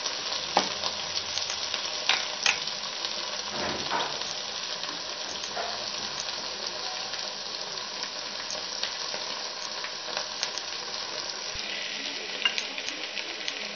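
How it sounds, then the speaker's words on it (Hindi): Okra (bhindi) frying in a pan for restaurant-style masala bhindi makes a dense, continuous sizzle with scattered pops and occasional stirring scrapes, steady and fairly loud throughout. "हमारी भिंडी जो है फ्राई हो रही है"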